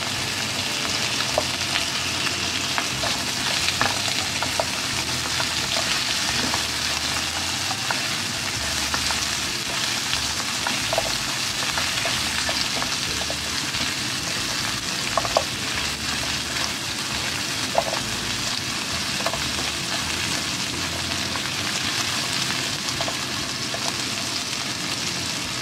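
Squash frying with garlic and onion in a pan, a steady crackling sizzle heard close up, dotted with small pops and occasional stirring clicks over a long unbroken stretch.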